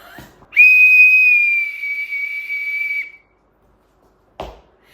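A single long, shrill whistle blast rings out close by for a couple of seconds, then cuts off, followed by a brief knock.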